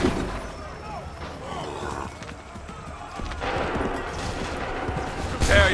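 Musket volleys crack and rattle in Assassin's Creed 3, a dense, continuous battlefield din of gunfire, mixed with shouting voices throughout and a sharper burst near the end.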